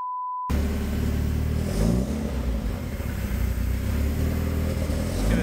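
A car engine fitted with fresh sound deadening and a new ECU cranks and then runs, a low rumbling idle with slight revving swells, steady and fairly close after a brief tone at the start.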